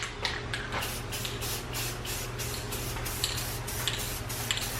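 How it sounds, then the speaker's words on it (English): White spray paint hissing onto WRX intercooler piping in a rapid series of short bursts, close and steady, with a low background hum and no talk. "let's spray some white"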